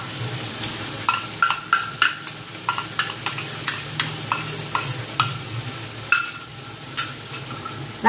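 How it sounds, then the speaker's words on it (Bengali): Chickpeas frying in a pan for a taro leaf dish, a low sizzle under repeated sharp spatula scrapes and knocks against the metal, irregular stirring strokes close by. "ছোলাটাকে ভালো করে মিশিয়ে নেব, আর একটু ভেজে নেব"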